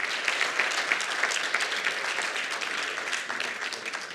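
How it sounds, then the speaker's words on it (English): Conference room audience of coaches gives a warm, continuous round of applause, dense and even, with a faint scattered cheer mixed in. "give them a warm welcome and cheer"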